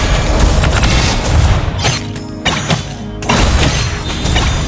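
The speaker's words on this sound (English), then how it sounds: "Your team destroyed the turret." In a mobile battle game, a turret is destroyed with a loud booming crash, layered with shattering bursts and rapid effects that pile up and drop away several times in a dense, noisy mix.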